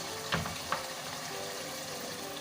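Minced meat (keema) frying in a pot as potatoes go in, a soft continuous sizzle with two quick clattering thumps early on as the potatoes drop and are stirred.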